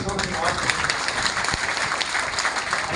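A crowd at a Tamil political party gathering breaks into dense, continuous applause, loud and close, with voices mixed in beneath the clapping.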